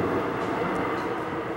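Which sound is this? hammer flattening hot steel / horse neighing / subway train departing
subway train departing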